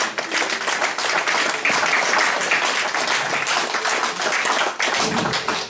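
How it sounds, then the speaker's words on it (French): A church congregation claps and cheers loudly and continuously, dense applause filling the whole stretch without pause. "Applaudissez Jésus, alléluia."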